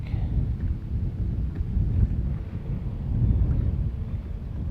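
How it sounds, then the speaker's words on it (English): Gusty wind blows outdoors on a fishing outing, buffeting the microphone with a continuous low rumbling roar that swells and eases without any speech. "Wind's blowing a little harder right now"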